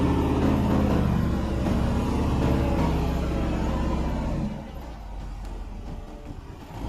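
A Range Rover on standard snow tires drives off from a full stop on a snowy test course, giving a loud, low engine rumble and road roar that drops noticeably near the end.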